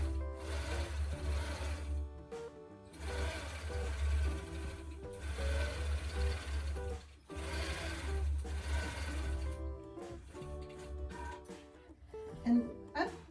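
A longarm quilting machine stitches down the sides of a vintage star quilt in long bursts of rapid mechanical whirring separated by brief pauses, close by, with a voice talking at points.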